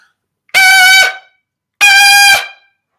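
A pressed, squeezed-cord belted singing tone demonstrating poor technique, two loud sustained bright notes of about half a second each, separated by a short silence and sung alone without accompaniment.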